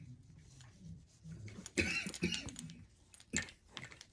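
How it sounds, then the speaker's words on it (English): A few harsh coughs burst out near the middle, loud and close, with quieter throat noises and faint voices around them. "Got a bad cough."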